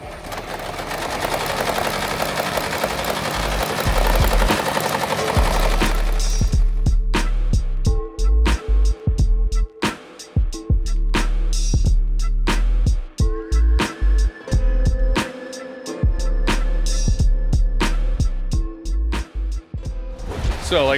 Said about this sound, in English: we have all of our needles that just stay still as they just go up and down super quickly